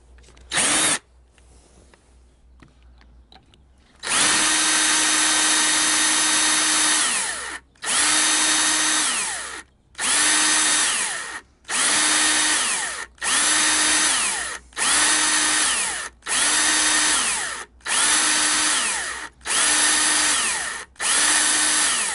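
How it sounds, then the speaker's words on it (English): A cordless power drill runs in a series of loud, close bursts of whirring, about a dozen pulls of the trigger separated by short pauses, each spinning up and down, with no talk. "Looks like we're running out of electricity on this here drill"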